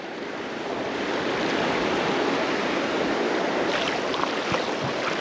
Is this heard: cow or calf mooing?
no